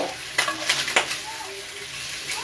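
Meat fat sears and sizzles in a pan for New Orleans red beans, a close crackling hiss with a few sharp pops and a brief stir or clatter of utensils.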